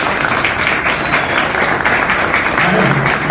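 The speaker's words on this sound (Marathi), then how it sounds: "एकदा जोरदार टाळ्या स्वतःसाठी होत्या." Students applaud themselves with loud, continuous clapping that forms a dense, unbroken roar for the whole stretch.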